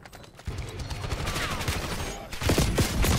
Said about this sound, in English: Oh, that's a shotgun, brother.